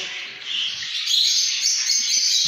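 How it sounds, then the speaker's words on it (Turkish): Dense, continuous high chirping from many small pet birds in an indoor bird room, a bright chattering chorus that grows slightly louder partway through. "Burası tamamen kuşlara ayrılmış bir oda."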